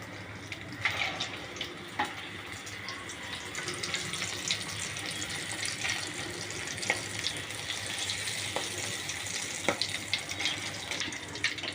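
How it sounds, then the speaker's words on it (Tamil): Egg-dipped chicken pieces for tea-powder chicken frying in hot oil, giving a steady, continuous sizzle and hiss with scattered crackles throughout, close by and without speech. "இந்த மாதிரி எல்லா சிக்கனையும் ஒன்று ஒன்றா இந்த மாதிரி பண்ணி எண்ணெயில் போட்டுட்டு வாங்க."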